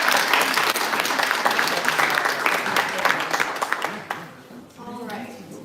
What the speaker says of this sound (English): Can we give one more big round of applause for all our